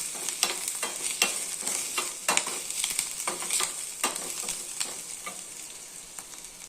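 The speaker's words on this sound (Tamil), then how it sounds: "நான் வந்து எண்ணெய் ஊற்றி கடுகு கடலைப்பருப்பு உளுந்தம்பருப்பு வெங்காயம் பச்சை மிளகாய் இஞ்சி எல்லாம் போட்டு வதக்கிட்டு" Mustard seeds, chana and urad dal, onion, green chilli and ginger crackle and sizzle in hot oil as they are stirred, with sharp spattering pops over a steady frying hiss, close and alone.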